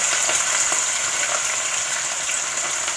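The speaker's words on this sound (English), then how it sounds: "So now I'm gonna be putting my pork chop in to fry." A seasoned pork chop fries in warm oil for a Sierra Leonean pork chop and gravy dish, giving a loud, steady, close sizzle that never lets up, with no voices.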